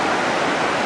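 Rain-swollen river rushing rough through the Watersmeet valley, a loud, dense, continuous roar of churning water heard close and alone.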